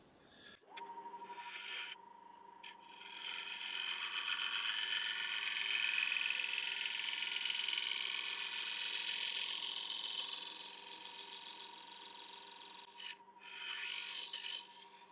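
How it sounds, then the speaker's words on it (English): A round nose scraper rides across a slightly moist mulberry bowl spinning on a lathe, giving a steady close rasping scrape that swells and fades over about fifteen seconds, with the lathe's tonal hum underneath and no talking. "a little round nose scraper, just going to refine that curve just around there"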